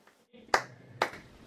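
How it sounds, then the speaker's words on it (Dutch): Two sharp hand claps sound close by, about half a second apart, each a crisp, bright snap that fades at once. "Klappen."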